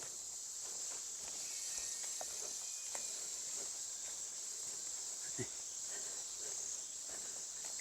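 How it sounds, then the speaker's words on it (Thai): Cicadas drone in a steady high-pitched buzz in a forest near a cave in Thailand, with occasional faint bird chirps and soft footsteps crunching below. "เดินฟังเสียงนก เสียงจักจั่นเนาะ"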